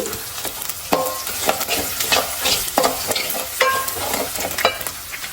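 Ginger, garlic and green chilli frying in a pan for a date pickle, stirred steadily with a spoon, with repeated scraping strokes over a constant loud sizzle.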